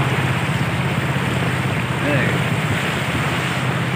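Rough, fast-flowing water of a river in Aceh, a dense continuous rushing roar with wind buffeting the microphone, steady and close, with faint voices underneath.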